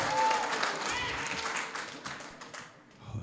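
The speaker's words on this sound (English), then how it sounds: "Can you please hold your applause?" Audience applause at an aldermanic election runoff forum, moderately loud clapping that gradually thins and fades, with talking underneath.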